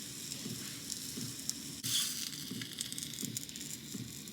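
Pre-cooked sausages warm at the cool outer edge of a frying pan on a camp stove in a parked van, giving a steady low sizzle. A sharper crackle flares midway, then the sizzle settles back.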